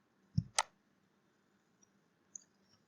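A computer mouse gives two sharp, close clicks in quick succession, followed by a couple of faint ticks in an otherwise quiet room.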